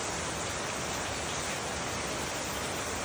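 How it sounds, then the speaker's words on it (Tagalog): Heavy rain pours down in a rural province, a dense, even hiss of downpour that fills the whole clip without a break. "malakas ang ulan dito sa probinsya"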